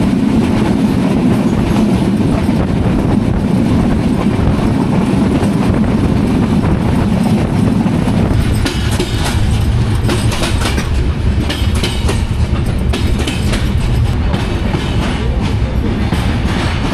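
The Ekota Express passenger train runs at night toward Dhaka near Hili station, giving a loud continuous rumble with rhythmic clickety-clack of wheels over rail joints and a rising clatter in the later half.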